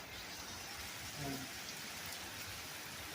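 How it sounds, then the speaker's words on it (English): Hail and heavy rain fall during a thunderstorm, making a dense, even hiss and patter that holds steady and sounds fairly distant. "That's hail."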